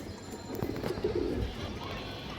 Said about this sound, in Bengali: এই দেখেন অনেক সুন্দর চোখের কৌতর